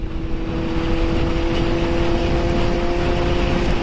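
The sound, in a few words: Kawasaki Z motorcycle engine revving at 9000 rpm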